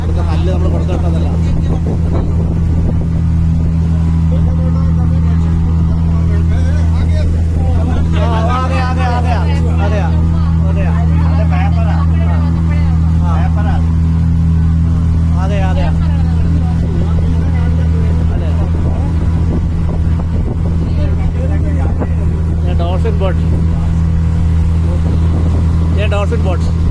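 A glass-bottom tourist boat's engine drones loud and constant off the Andaman coast, a heavy low hum throughout with voices chattering on board over it.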